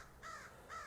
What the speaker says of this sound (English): hi Mr. Crow